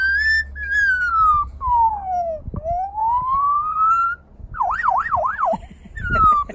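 A magpie mimics an ambulance siren with rising and falling wails, then a fast warbling yelp, loud and close, with brief pauses between phrases.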